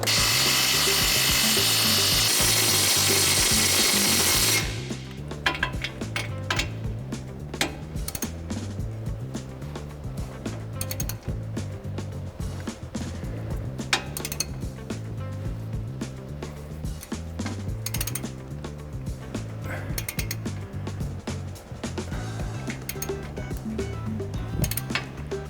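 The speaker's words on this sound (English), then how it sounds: "Now I'm going to tighten the lower shock." A lower shock bolt on a Ford F-150 with a ReadyLIFT 2.25-inch front lift kit is tightened: a few seconds of loud power-tool whir, then a long run of steady, rhythmic ratchet clicks close by.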